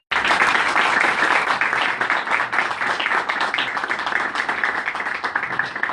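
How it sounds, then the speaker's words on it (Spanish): An audience at a financial inclusion conference session in Aragón bursts into loud, close applause that starts abruptly and carries on dense and steady, easing slightly toward the end. "Vamos a darle un aplauso."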